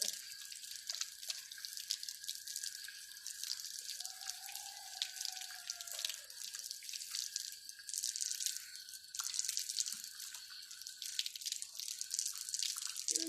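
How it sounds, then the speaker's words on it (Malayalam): Steady running tap water splashing into a sink as hands are washed without soap lather, a continuous close hiss with faint drips and no voices. "സോപ്പ് പത ഇല്ലാതെ കൈ കഴുകുക."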